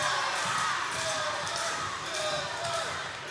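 Crowd at a Temple professional wrestling event cheering and shouting steadily throughout, with a commentator talking over the noise.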